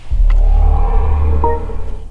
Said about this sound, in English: so that sound is actually made by Hans Zimmer